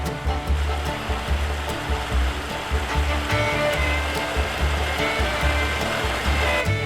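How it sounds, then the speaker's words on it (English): Mingus Creek rushes beside an old grist mill in the Smoky Mountains, a loud, steady roar of flowing water that stays constant from start to finish. "That's the MIngus Creek ahead, which only adds to this beautiful setting"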